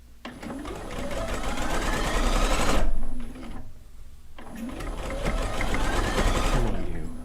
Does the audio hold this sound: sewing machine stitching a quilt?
yes